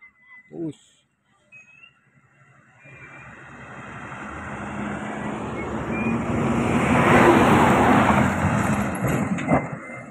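A bus passes on a road near a long uphill climb, its engine and tyre noise swelling gradually from a distant rumble to a loud, close roar before easing slightly, after a brief voice at the start.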